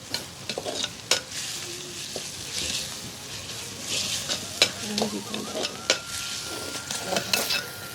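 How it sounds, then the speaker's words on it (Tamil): Oil sizzles steadily as curry leaves fry, with intermittent stirring scrapes and clinks of a utensil against a pan, close up, no talking. "அந்த கருவேப்பில்லு எல்லாம் போட்டு திரும்ப பொரிக்கிறேன்"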